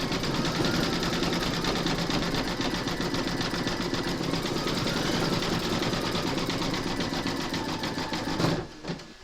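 An embroidery machine runs satin stitching on a moon phases table runner, a loud steady mechanical whir with fast even needle pulses that carries on unbroken for nearly the whole stretch before stopping abruptly near the end.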